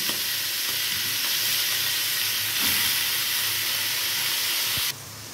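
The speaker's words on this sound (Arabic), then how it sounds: "وكده اللحمه تتشوح جميله وريحتها طالعه عسل كده مع الدهنه" Meat sears in a pan in its own fat, giving a continuous close sizzle and hiss with faint stirring scrapes that cuts off near the end, leaving a quieter background.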